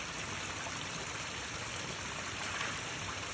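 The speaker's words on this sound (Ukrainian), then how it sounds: "Зараз ми знаходимося коло такої прекрасної керниці." Cold spring water trickles from a forest well in Zakarpattia, a steady, soft, continuous splashing murmur heard at low level with no voices over it.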